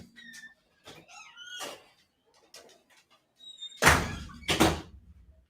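A door is thrown open and slammed shut as two loud, close thuds in quick succession, after softer knocks and faint bird-like coos.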